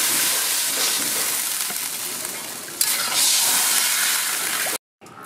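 Water pours into a hot pot of katla fish curry with bottle gourd, already seasoned with turmeric and salt. A loud, steady sizzling hiss runs for several seconds before cutting off abruptly.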